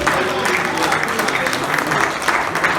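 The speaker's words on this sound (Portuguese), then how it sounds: "E a Ele nós damos uma linda salva de palmas assim" Congregation at an evening church service giving a round of applause, dense and lively clapping with some crowd murmur, loud and close and sustained throughout.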